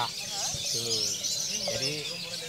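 Murai batu (white-rumped shama) birdsong chirps steadily at a bird-singing contest, with someone talking over it in the foreground throughout.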